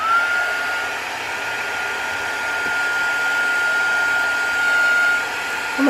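A heat gun blows hot air in a steady, even whoosh with a faint high whine, running continuously at close range with no talking.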